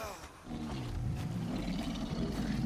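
A sabertooth cat in the game Far Cry Primal lets out a low, rumbling roar that swells and holds for a couple of seconds, loud and close.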